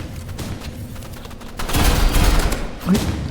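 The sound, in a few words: gunfire hitting the player in the video game Roblox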